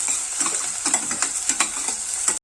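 Continuous sizzle of frying in sesame oil while making a chicken gravy, with an even crackle and a few louder pops and stirring scrapes, close up and without talk.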